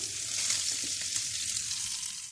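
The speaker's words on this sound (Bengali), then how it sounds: "মাছ ভাজি আমি এখন আস্তে আস্তে উল্টিয়ে দিচ্ছি" Rohu fish sizzles steadily as it fries in a pan, with soft scraping as pieces are slowly turned over; the frying hiss stays loud and continuous throughout with no talking.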